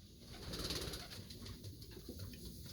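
Racing pigeons cooing at their loft, faint and low under a steady wash of background noise.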